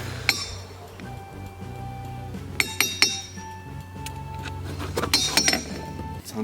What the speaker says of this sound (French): Allez, tape sur un caillou pour voir.